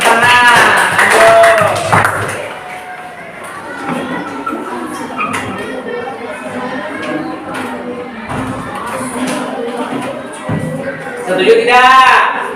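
Classroom of children clapping hands in bursts, a short round of applause near the start and another near the end, with lively chatter and voices in between.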